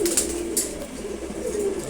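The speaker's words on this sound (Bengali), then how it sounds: "রেড চেকার্ড কবুতর জোড়া" A pair of red checkered pigeons coo softly nearby, a low rolling murmur holding through the whole moment with a couple of brief brighter flutters, and no speech.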